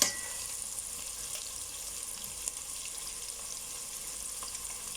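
Onions with turmeric and spices frying in a pot while being stirred, a steady close hiss and sizzle with faint scrapes, no talking.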